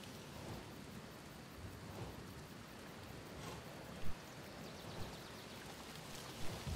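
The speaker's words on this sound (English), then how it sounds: "It's raining, signifying troubling times." Steady rain pours down in a constant broadband hiss, with a few soft thumps rising briefly above the downpour, no voices.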